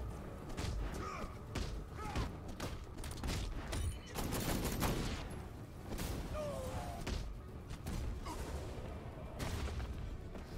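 Scattered gunshots and heavy thuds ring out in a Batman Arkham Knight fight, irregular sharp bursts and impacts spread across a busy, noisy mix at moderate volume.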